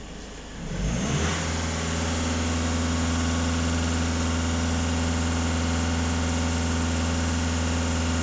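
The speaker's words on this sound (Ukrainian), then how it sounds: "Даю газ в пол." A Skoda Octavia A7 1.6 TDI diesel engine climbs from idle to full throttle, then holds a loud, steady high-rev drone with a strong, constant hum.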